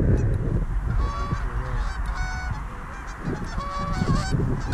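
Canada geese honk repeatedly as they fly in during a New York goose hunt, their calls overlapping loudly and fairly close over an outdoor rumble.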